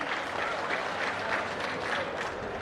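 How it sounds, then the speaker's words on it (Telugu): Audience at a public meeting with the Chief Minister in Kaikaluru breaks into sustained applause, a thick, even wash of many hands clapping at once, moderately loud and unbroken throughout. "గట్టిగా చప్పట్లు కొట్టి అభినందించండి."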